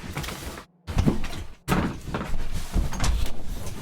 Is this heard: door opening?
yes